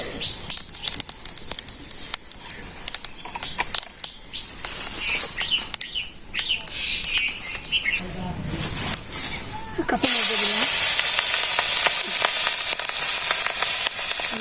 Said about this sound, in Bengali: তেল দিলাম গোটা জিরা